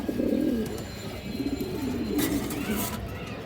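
Male silver pigeon of a racing line cooing at close range, a few low rolling coos over steady background noise.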